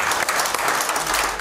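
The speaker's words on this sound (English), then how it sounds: "Give the Lord a hand clap." A church congregation claps together in praise, a brief dense burst of hand clapping filling the room for a second and a half.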